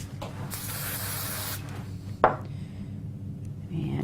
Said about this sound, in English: I think I will use a bit of spray glue on the back of this